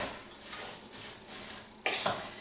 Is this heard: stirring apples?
yes